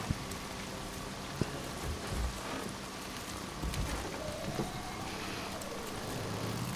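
Steady rainfall in the video game Days Gone, a soft continuous hiss with a few faint knocks and a low rumble beneath, fairly quiet throughout.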